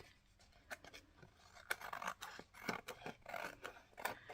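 Scissors snip and trim a large antique bazaar journaling card, giving a string of close, crisp cuts and paper scrapes in an uneven rhythm, quiet and without talk.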